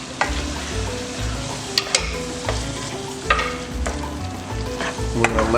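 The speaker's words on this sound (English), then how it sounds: "we're gonna add our potatoes. We're gonna stir them around." Potatoes stirred while frying in a pan, with an even sizzle broken by repeated scrapes and knocks of the spoon against the pan, close and clear.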